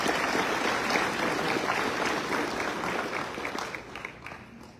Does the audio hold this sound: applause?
yes